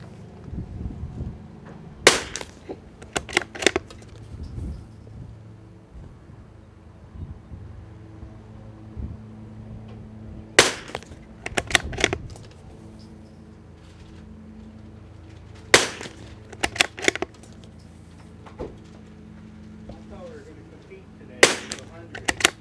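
Sharp rifle shots at an outdoor shooting range on a windy day, a few sharp cracks spread out with gaps between them, some in pairs, over a low rumbling wind background.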